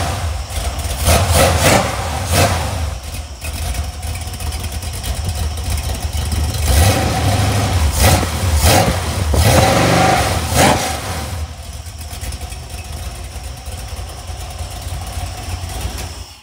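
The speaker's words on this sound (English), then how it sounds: "All right, mufflers are back on. Fire it up one last time for good measure." A 5.3-liter LS LM7 V8 with a BTR Stage 2 truck cam runs on an engine runstand with mufflers fitted, a loud, steady lopey idle broken by several sharp revs, close and with no talking.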